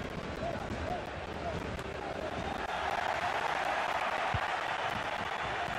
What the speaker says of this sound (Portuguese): a torcida se animou